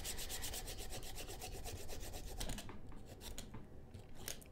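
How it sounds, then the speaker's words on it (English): Steady close-up rasping and scraping as the inside of a drilled bowling ball hole is roughed up, a continuous gritty rubbing with rhythmic strokes and no talk. "So you really want to rough it up good in there."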